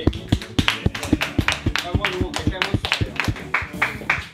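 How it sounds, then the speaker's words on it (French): A single person's hands clapping in a quick, steady rhythm of sharp claps close by, about four seconds of applause with no one talking over it. "Une bonne main d'applaudissements là, pour tout le monde."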